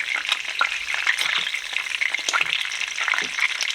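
Meatballs frying in a pan of tomato spaghetti sauce, a close, continuous crackling sizzle with bright spattering pops and light stirring scrapes, no talking.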